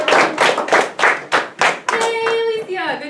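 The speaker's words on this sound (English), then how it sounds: "applause" Several loud, rhythmic hand claps ring out close by at an elementary school graduation, then a voice cheers over the last few claps.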